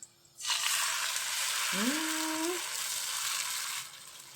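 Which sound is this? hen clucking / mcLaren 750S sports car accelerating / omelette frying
omelette frying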